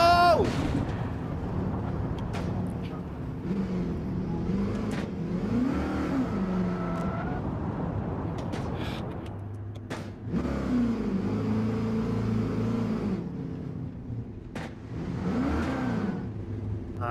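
Race car engines in Gran Turismo 7 during an endurance championship race, revving and droning loudly throughout with rising and falling pitch sweeps as the car spins, with a few sharp bumps.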